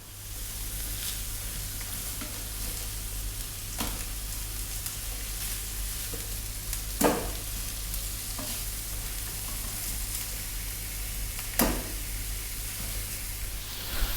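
Half-pound beef burger patties fry with a steady, even sizzle, broken by a few sharp scrapes and thumps as they are flipped, heard close with no talk.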